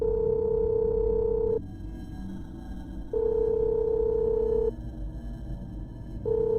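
Telephone ringing tone as a call connects, a steady electronic tone repeating in long bursts of about a second and a half separated by equal pauses, clear and moderately loud with a faint hum underneath.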